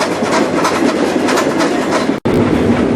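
Steady rumbling and rattling of a moving train from inside a carriage, continuous and loud, with a brief dropout near the end.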